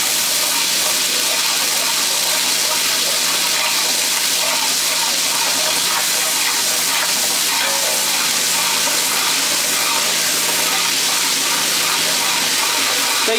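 Ginger garlic paste frying in hot oil while being stirred, a loud, dense, continuous sizzle and hiss that fills the whole stretch, with the stirring mostly buried underneath.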